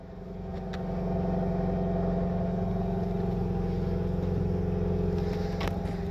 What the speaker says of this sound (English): Dual pipe exhaust.